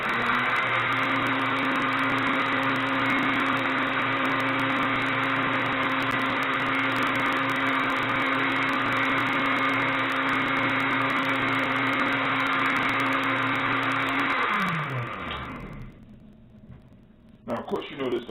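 A kitchen blender whirs steadily at full speed with no lid on, a loud continuous motor drone that winds down and stops near the end, followed by a brief clatter.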